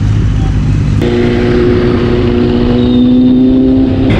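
A Ducati Diavel motorcycle rides through the city streets of Vizag, its engine droning loudly and steadily up close, with a shift in pitch as it pulls along.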